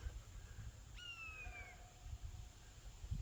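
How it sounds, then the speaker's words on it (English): A single high, descending screech like a hawk's call rings out once from a distance outdoors near a dog run cable and telephone pole, faint against low wind rumble. "Doesn't that sound like a hawk to y'all?"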